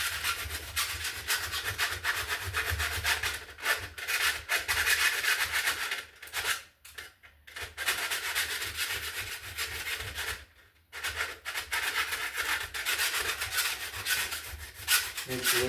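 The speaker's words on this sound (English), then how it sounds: "we're gonna file out any sharp edges" Hand file rasping sharp edges off cut metal wire mold raceway, a steady scraping rub in repeated strokes, close and fairly loud, with a couple of brief pauses.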